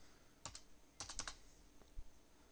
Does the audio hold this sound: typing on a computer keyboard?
yes